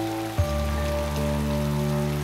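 Rain falls in a steady patter, a constant even wash throughout with a low tonal hum beneath and a brief soft thump near the start.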